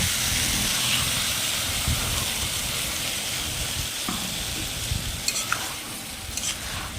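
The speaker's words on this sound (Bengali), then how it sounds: "যতক্ষণ এই কষানোতে তেলটা না ছাড়বে ততক্ষণ আমি তরকারিটা কষিয়ে নেব" Spice paste sautéing with potato and eggplant in oil sizzles and hisses steadily, with spatula stirs and a few sharp clinks of utensil on pan near the end.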